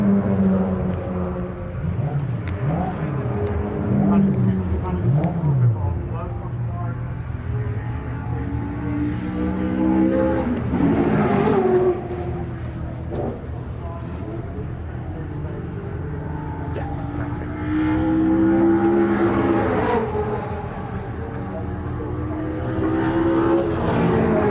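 Class D race cars in qualifying at Mallory Park, several engines sweeping up and down through the gears as cars pass at varying distances, revving and fading in overlapping waves over about 25 seconds.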